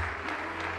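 Dense, steady applause fills a Berlin youth dance performance venue, an unbroken wash of many hands clapping close and loud with no voices on top.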